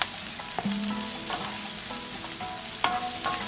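Julienned stalks sizzle in a pan of turmeric, oil and ghee, a constant crackling hiss with a wooden spoon knocking and scraping now and then, close and fairly loud.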